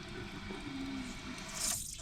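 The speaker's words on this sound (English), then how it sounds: "And the toilet is filling faster." A toilet tank refilling after a slow-fill repair: a steady close hiss and trickle of water running into the tank, continuous throughout with a brief brighter splash near the end.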